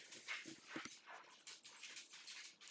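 A dog makes soft whimpering, panting noises in short uneven bursts, close by and moderately loud, with no talking over it.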